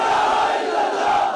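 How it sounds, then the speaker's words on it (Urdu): A large stadium rally crowd at Mian Channu, Pakistan, roars back a chanted reply to a leader's slogan, a loud, dense wall of massed voices that stays steady for the whole moment. "اگر پیغام پورا دے سکتے ہیں تو میرے نعرے کا جواب دیں"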